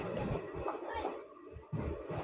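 Rumbling goods train wagons hauled by a WDG4D diesel locomotive rolling past close by, with rhythmic low thumps of wheels over rail joints.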